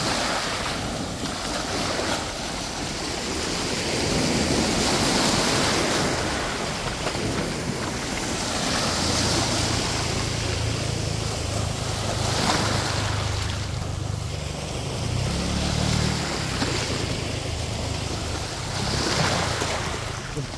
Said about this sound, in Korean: 파도가 좀 잘 되나 봐.